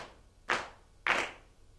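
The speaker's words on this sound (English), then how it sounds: "Could you clap that without saying it?" Two separate claps from an audience clapping a rhythm, each a sharp burst about half a second apart, fairly close, with quiet room tone between.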